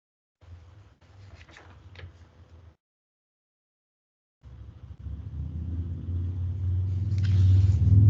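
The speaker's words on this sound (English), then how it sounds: "More thunder." Thunder rumbles outside during a task force meeting, a low, muffled roll that starts after a brief quiet gap and swells steadily louder toward the end.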